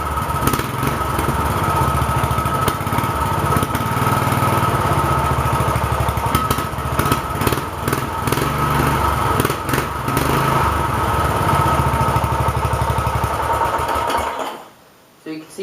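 A racing lawn mower engine runs continuously at a fast, buzzing idle with a rapid ticking rhythm, loud and close, then abruptly shuts off near the end.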